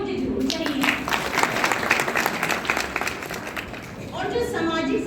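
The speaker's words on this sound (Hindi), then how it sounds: "तालियां मुझे जरूर चाहिए।" An audience at a women's social-harmony gathering claps steadily, a dense continuous wash of applause lasting several seconds before it tapers off, with a voice audible near the end.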